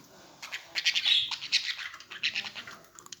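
A small bird squawks and chirps repeatedly in bright, scratchy bursts, fairly close, with no talking.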